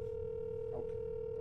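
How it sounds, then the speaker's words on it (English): A continuous telephone tone hums steadily and faintly while a call is placed, with no voices. "I'm calling him now."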